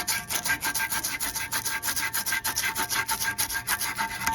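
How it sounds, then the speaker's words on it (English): Emery cloth rubs back and forth on the steel shaft of an HVAC blower motor in steady, rapid, gritty strokes that stay loud and close throughout. "we sanded down this shaft with a piece of emery cloth"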